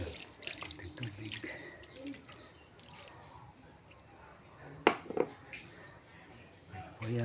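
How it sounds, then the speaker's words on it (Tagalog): A little water is poured into a pan while cooking a home-made dish, a soft splashing and dripping with a sharp clatter midway, close by and moderately loud. "Lagyan natin ng konting tubig."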